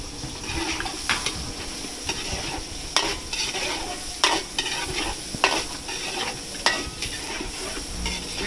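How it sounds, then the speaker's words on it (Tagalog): Garlic and chili being sautéed in a pan for spicy wings, with a steady hiss of frying broken by repeated scraping and stirring clatters. "gigisa lang natin itong bawang saka sili"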